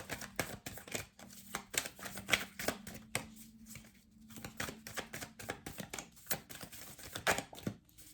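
Oracle cards being shuffled by hand, a run of soft papery riffles and slaps coming close and steady with a faint low hum underneath and no talking.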